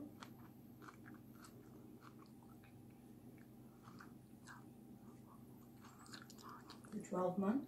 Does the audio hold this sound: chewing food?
yes